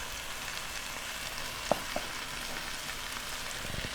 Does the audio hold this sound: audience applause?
no